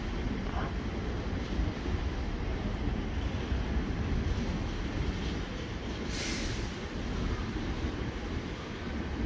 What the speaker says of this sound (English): Elizabeth Line train.